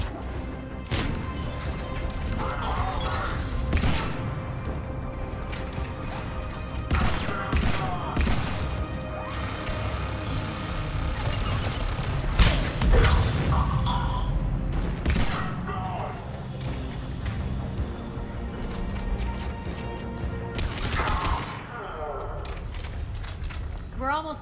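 Gunfire against a turret in Mass Effect 3 comes as dense bursts and blasts, with crashes and impacts mixed in under steady combat noise and a shouted voice.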